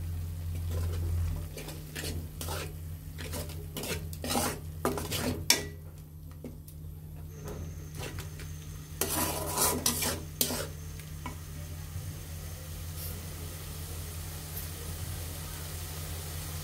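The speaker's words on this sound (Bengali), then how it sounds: "এখন ভালোভাবে মশলাগুলো কষিয়ে নিতে হবে।" Ginger, garlic and spices are stir-fried in a pan with a spatula, giving repeated scraping strokes in irregular bursts over a quiet, low sizzle.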